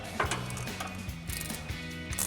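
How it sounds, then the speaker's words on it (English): A 19mm ratcheting wrench tightening a locking nut on a 2019-2024 RAM 1500 suspension lift kit, giving a quiet, steady run of rapid clicking ratchet strokes in short repeated bursts, with no voices. "we're gonna grab our 19mm ratcheting wrench and a 6mm wrench to hold the top"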